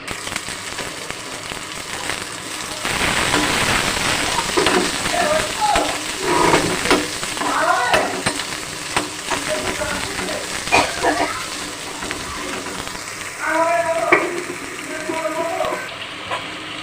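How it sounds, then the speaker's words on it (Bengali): Onion and garlic fry in hot chilli-infused oil, a steady broad sizzle and crackle throughout with occasional stirring, while someone speaks over the cooking. "গরম লঙ্কা ভাজা তেলের মধ্যে পেঁয়াজ আর রসুনটাকেও ভেজে নেব।"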